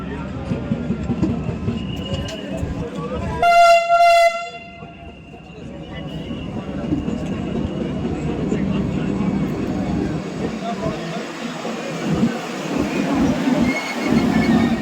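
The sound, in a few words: Vande Bharat train arriving at Kurukshetra railway station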